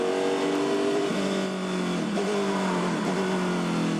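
A Formula 5000 racing car engine drones steadily at a distance, its pitch stepping up and dropping back several times as it shifts through gears.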